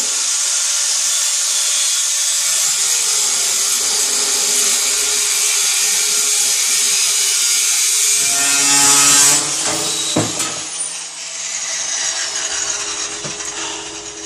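Power tool trimming the body of a racing mower, a loud continuous grinding cut with a harsh high-pitched edge, shifting in tone partway through and ending with a few sharp clattering knocks.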